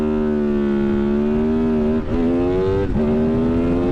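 A Honda VFR800 motorcycle fitted with a cheap Temu turbo, dash warning light on, holds a loud, steady high-revving engine note with two brief dips in pitch, alone without talk.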